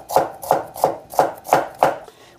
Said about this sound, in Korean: 그래서 이렇게 채를 얇게 치시면 되죠.